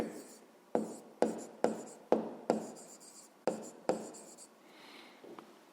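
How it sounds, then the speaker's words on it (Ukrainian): A pen writes out a math formula on paper for a 5th-grade exercise, sounding as a series of sharp, close strokes and scratches in a quiet room, with a short pause near the end. "Записуємо"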